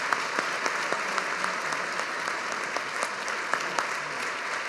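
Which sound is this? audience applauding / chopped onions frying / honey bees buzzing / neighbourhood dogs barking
audience applauding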